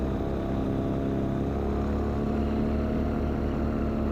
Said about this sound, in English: I'll kill the engine before the glider does eventually come down